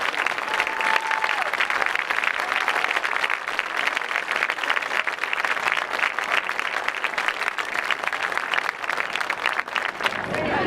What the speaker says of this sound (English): let's stand up and give a big Spartan round of applause to John Gibson and his entire family.